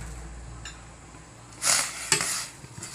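Southern Thai sour curry with shrimp, pineapple and young tamarind leaves stirred in a pot, a faint simmer broken by a burst of scraping and a sharp utensil clink against the pot, close and without talking.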